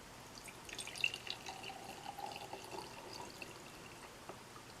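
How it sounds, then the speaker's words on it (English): Water trickling and splashing into a jar from a tap, a soft, continuous pour with light drips, quiet and close, with no talking. "So I'm then going to fill my jar with water."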